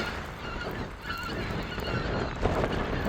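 A flock of geese or ducks honking overhead in flight, repeated calls overlapping in a steady chorus over outdoor background noise.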